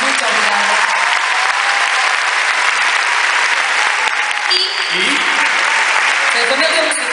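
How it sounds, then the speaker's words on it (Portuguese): A crowd of audience members at a concert applauds steadily and loudly for the band musicians, a dense wash of clapping throughout, with a faint voice briefly audible underneath. "Para todos eles uma salva de palmas."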